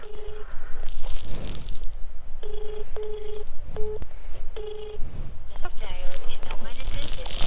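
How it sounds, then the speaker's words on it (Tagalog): A phone dialing out to a delivery customer gives a series of clear DTMF keypad beeps, close and loud, with wind and someone talking around the tones. "So tawagan muna natin ating customer."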